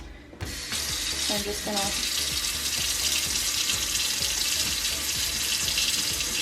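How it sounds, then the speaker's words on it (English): Water from a tap runs steadily into a sink with a continuous splashing hiss while makeup brushes are washed, close and loud, with a brief spoken remark near the start. "when I turn the water on"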